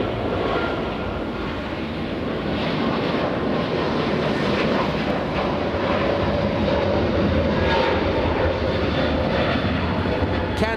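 A Hawaiian Airlines Airbus A321neo lands at LAX with a loud, steady, broadband engine roar that holds evenly throughout and carries no talk.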